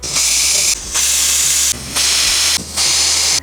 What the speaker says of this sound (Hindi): 4 सीटी लगाने के बाद हमने कुकर को ठंडा कर दिया है